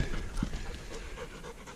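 A hot dog pants steadily and close by on a desert hiking trail in Gold Butte National Monument, Nevada, its quick rhythmic breaths continuing throughout with no talking.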